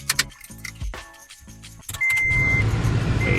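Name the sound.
Toyota Tacoma cabin air fan running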